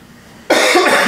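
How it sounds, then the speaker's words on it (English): A single sharp, loud cough bursts in close to the microphone after a brief quiet moment, with a rough, throaty tail, during a chiropractic adjustment. "Go ahead, let it just keep coughing"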